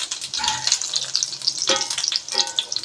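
Poha and green pea cutlets shallow-fry in a pan with a bright crackling sizzle, swelling in several bursts as the pieces are moved or turned.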